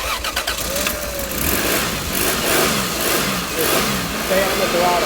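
A Toyota Supra Turbo engine cranks and fires up close by, stuttering at first and then settling into a rough, loud, uneven run, with a voice talking over it.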